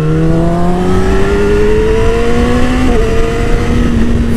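A 2017 Yamaha R6 sport motorcycle revs hard and accelerates, its loud, close engine note climbing steadily before a quick shift near the end drops the pitch briefly, then the rise resumes.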